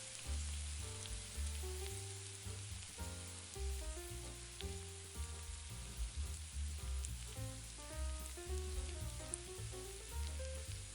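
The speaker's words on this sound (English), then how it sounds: "Keep on stirring the sauce" Heavy cream sauce simmers and sizzles in a pan over low-medium heat while being stirred, a steady soft crackle running under prominent background music.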